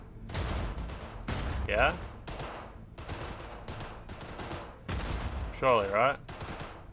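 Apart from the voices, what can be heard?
shooting targets with guns in a video game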